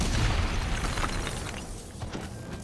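Robots detonating in a Call of Duty Black Ops III cutscene: a loud, broad explosive roar and crackling burst that fills the clip and slowly fades, with no talk.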